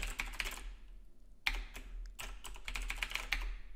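A password typed on a computer keyboard, quick irregular clicks of keys close by over a low steady hum, with a short lull in the middle before the typing resumes.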